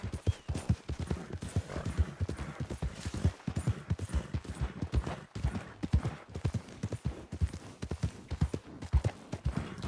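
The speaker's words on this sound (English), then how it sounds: "It's not a bad horse." Horse hooves clip-clop steadily in the Red Dead Redemption 2 roleplay video game, a fast, even run of close, crisp hoofbeats that carries on without a break at moderate volume.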